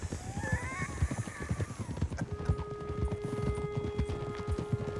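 Steady clip-clop of horse hooves at a walk in the video game Red Dead Redemption 2, fairly close, with a low sustained tone entering midway and a brief whinny-like sound early on.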